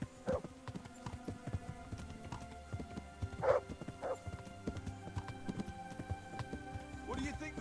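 Horse hooves clip-clop at a steady walking pace in Kingdom Come: Deliverance, a medieval video game, mixed with game music and other ambient effects, with occasional louder hoof strikes standing out.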